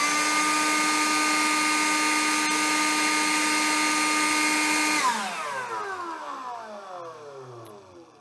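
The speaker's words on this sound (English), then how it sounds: "I've got the old 20 volt blower here and can do a quick comparison so you can see how much louder" A DeWalt DCBL720 20-volt cordless leaf blower, running at its single setting, holds a loud, steady whine, then is released and spins down, its pitch falling as the sound fades.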